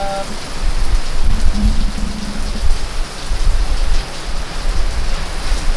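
Steady rain pours down outdoors in the Philippines while people wait for a ride, a dense continuous hiss of drops hitting surfaces, close and loud throughout with no talk.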